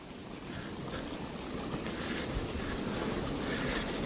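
Old passenger train at a station near the Polish–Ukrainian border, a dense rumbling wash of rolling wagons and faint clatter building slightly in loudness over a few seconds, with no talking.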